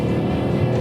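A 2015 Ford Mustang GT V8 revs loud and close, a dense, throaty engine roar held for under a second.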